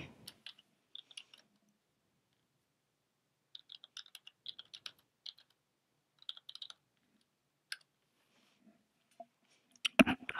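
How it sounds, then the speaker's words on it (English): Quiet bursts of computer keyboard typing, with scattered key clicks in short clusters separated by pauses and a louder flurry at the end, heard alone without talk. "I don't know if you guys can hear my keyboard that well"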